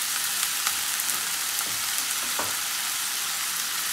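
Potatoes sizzling in a pan with oil and ginger-garlic paste, a steady dense frying hiss with a few soft pops and stirs, close and continuous with no voices.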